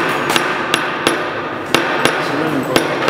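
A hammer taps sharply on a wooden frame while canvas is stretched over it, six or seven distinct close strikes spaced irregularly, each crisp and loud.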